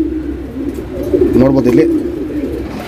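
A female Kulmi show pigeon coos in soft, rolling low pulses that swell near the middle of the short stretch, with someone talking over it close by.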